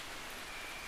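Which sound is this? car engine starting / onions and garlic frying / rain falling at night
rain falling at night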